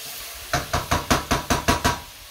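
Garlic cloves in their skins, scored with small cuts, stirred through softening vegetables in a hot pan: a steady sizzle under seven evenly spaced scraping stirs, close and fairly loud, with no talking.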